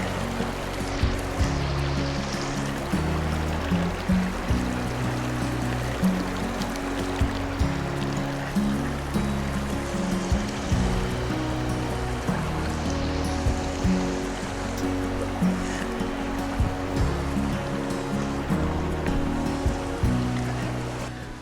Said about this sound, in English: I like hearing the sound of the river as we hike through.